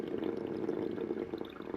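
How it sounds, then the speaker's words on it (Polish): A drink pours into a cup in a continuous gurgling, splashing stream, close and moderately loud, lasting a couple of seconds without talk. "Ja już kolejny kubek nalewam."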